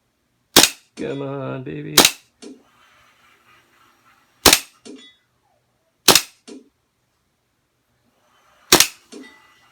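A Virtual-Shot shooting game fires loud, sharp cap-gun-like shots, five spaced apart over several seconds, with a brief electronic tone early on and someone speaking briefly.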